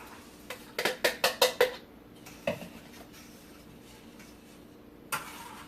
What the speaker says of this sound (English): Mix and get all the lumps out of it